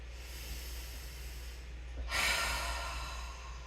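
A single breath is pushed out through the mouth during a guided relaxation session, a soft breathy whoosh that swells suddenly after a quiet stretch of steady low hum and then fades slowly.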